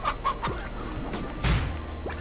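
Painted hens in the video game Slime Rancher cluck in a quick series of short, nasal clucks and squawks, fairly close, with a louder flurry midway and no speech over them.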